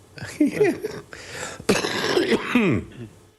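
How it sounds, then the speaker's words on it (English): A few throaty coughs and throat-clearing bursts, close and fairly loud, in short clusters with brief pauses between. "that's my residual cough"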